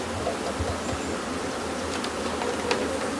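Honeybees being shaken in a dish pan give off a steady, close buzzing hum that holds evenly the whole time, with no voices.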